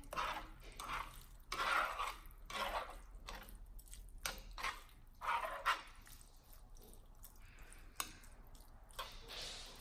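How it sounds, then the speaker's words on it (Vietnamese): Seasoning powder, sugar, minced garlic and shallots are stirred into pepper-braised anchovies, giving soft, wet squishing and scraping bursts in an uneven rhythm. The sound is quiet and close, with no talk. "khi mà mình cho các gia vị vô rồi mình trộn đều lên."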